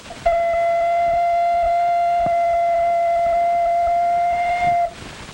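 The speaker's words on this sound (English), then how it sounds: "Make a sound on this ocarina, Jimmy." A louder sustained ocarina note, bright and steady with strong overtones, held nearly five seconds close up before stopping abruptly.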